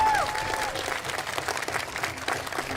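A crowd applauds applicants and new citizens at a naturalization ceremony, a moderately faint, continuous patter of many hands clapping in a large space.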